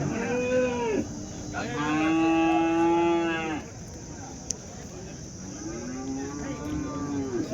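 Cattle and calves low repeatedly at the Chintamani Sunday cow market, loud drawn-out moos close by, one long call followed by another after a pause, over a busy background murmur.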